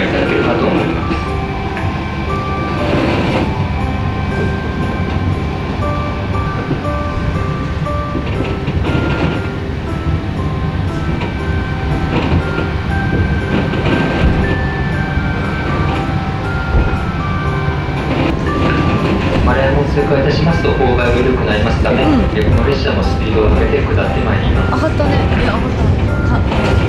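A train runs slowly along the Usui line, giving a loud, steady rumble of wheels and carriage noise with faint tonal whines throughout.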